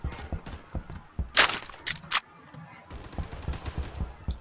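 Burst-fire gunshots in a video game, several sharp reports in short clusters spread across the clip, fairly close and punchy with no talk over them.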